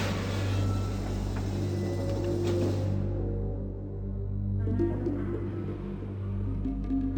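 A low, steady mechanical rumble with grinding and shifting noise as a mechanism closes in the video game Riven (1997), fairly loud throughout with no voices.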